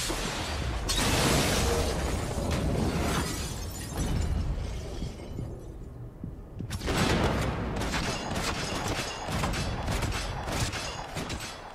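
Slow-motion gunfire in Max Payne 3, a dense stretch of drawn-out shots and shattering crashes running loud and continuous, with a brief lull midway before the barrage resumes.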